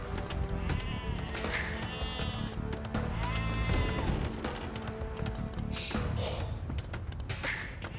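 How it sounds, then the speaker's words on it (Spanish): Sheep bleat repeatedly in the strategy game Age of Empires II, several wavering calls rising over a busy game soundscape of thuds, footsteps and clatter, with a voice talking briefly. "Ovejas."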